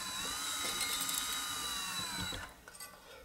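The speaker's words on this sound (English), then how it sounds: "Make sure our drill is going in the right direction." A power drill turns a guitar tuning key to wind on new strings, giving a steady whirring tone that runs for about two seconds and then cuts off into a few faint clicks.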